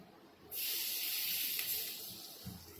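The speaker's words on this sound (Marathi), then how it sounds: "आपण ह्याच्यावर थोडं तेल टाकणार आहोत" Oil is poured over amla pickle packed in a jar, a soft steady hissing pour that starts abruptly and runs continuously for a couple of seconds, faint and close, without talk.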